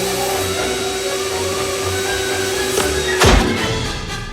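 A vacuum cleaner in a movie scene runs with a steady whining drone, then gives a sudden loud thump and rush as it sucks up a golf ball, with no talk.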